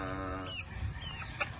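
Chickens on a farm cluck and chirp together, close by at moderate loudness. A low steady drone runs underneath, and scattered higher calls and one sharp squawk stand out near the end, with no talking.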